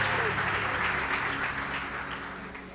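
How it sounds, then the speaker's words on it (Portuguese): Church congregation applauding, a dense wash of clapping that fades gradually over a few seconds with some voices mixed in. "Cadê as palmas?"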